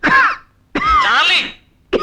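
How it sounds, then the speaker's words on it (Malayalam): Harsh, loud coughing close by, three hacking bursts in quick succession with short pauses between them. "എന്നാ കൊടുക്കുന്ന ചുമയാടാ?"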